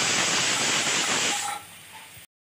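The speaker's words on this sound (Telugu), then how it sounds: "ఆవిరి మొత్తం పోయిన తర్వాత పాన్ మూత తీసుకోవాలండి" Steam hisses loudly out of a pressure pan cooking egg curry. The strong, close hiss weakens after about a second and a half, then stops abruptly.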